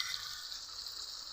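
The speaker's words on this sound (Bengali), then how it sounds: "একটু ভাজা ভাজা করে নিব।" Sarpunti fish sizzle and fry in hot oil in a pan, a steady, close, bright hiss that runs unbroken throughout with no voices.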